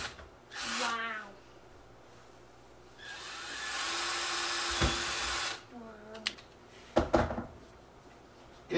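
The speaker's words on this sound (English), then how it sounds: "so that's it for the drilling" A power drill whirs in short bursts drilling plastic RC car skid plates, one long steady spin in the middle, with spoken voice and clattering between runs.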